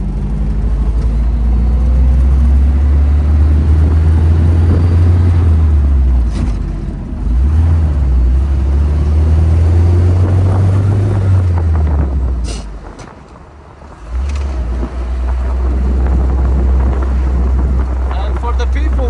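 An old UAZ-469 military vehicle without working brakes drives off-road. Its loud engine rises and falls in long surges, with heavy wind buffeting the microphone and a brief dip near the end. Some talk is mixed in.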